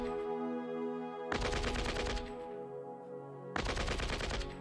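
Troops fire rifles in the strategy game Shadow Empire, in two loud rapid bursts of automatic fire separated by a quieter pause, with a steady tonal music bed underneath.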